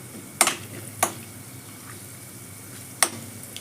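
Urad dal, mustard seeds and cumin seeds fry in oil with a low, quiet sizzle. Three sharp, isolated pops of seeds cut through it.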